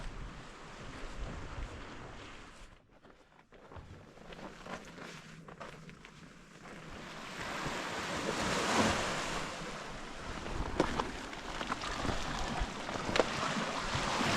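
Sea waves wash against the rocky Ibiza coastline, a steady surf that swells louder in the second half, mixed with gusty wind buffeting the microphone and no talking.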